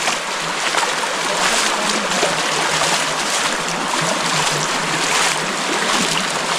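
A small hill stream gurgles and rushes along a quiet forest trail in Bandarban, a steady, close, bright wash of flowing water with no voices.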